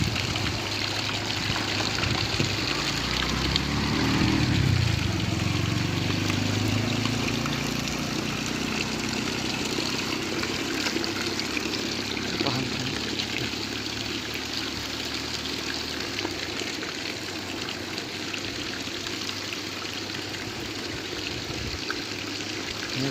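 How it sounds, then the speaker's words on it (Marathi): Water flowing steadily by itself out of a hand pump, a continuous close splashing trickle with a low rumbling undertone that runs unbroken throughout. "पाऊ न हापसता पाणी बाहेर येत आहे."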